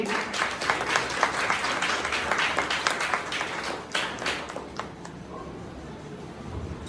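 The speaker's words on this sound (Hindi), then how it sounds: "जोरदार तालियां स्पॉन्सर के लिए।" An audience at a foundation event claps for the sponsor, a dense patter of many hands that is fairly loud at first and thins out toward the end.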